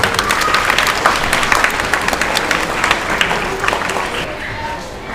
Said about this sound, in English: Let's clap for Sophia ma'am.